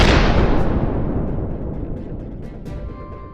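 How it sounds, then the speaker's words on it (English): A GMLRS rocket strikes a Russian self-propelled howitzer, a loud violent blast that opens abruptly and rolls off into a long, fading rumble with a few faint later pops. "A GMLRS rocket guided with pinpoint accuracy slams into the Russian vehicle, sending its turret and ammunition skyward in a violent blast."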